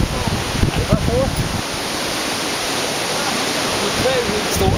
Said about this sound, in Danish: Det er så højt, så det slet ikke kommer ned som vand, men som et stykke.